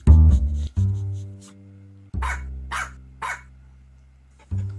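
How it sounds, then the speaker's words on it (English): A cartoon dog in the video game Milo and the Magpies barks three times in quick succession, sharp and clear, while low tonal game music plays underneath. "The dog will just bark."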